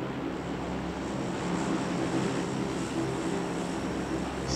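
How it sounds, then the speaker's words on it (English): Airplane engine droning overhead in the PUBG video game, a constant broadband propeller hum held at an even, fairly faint level throughout. "Oh my god, some noise of plane."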